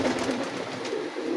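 Pigeons in a loft coo softly and continuously, a low murmuring burble from several birds close by.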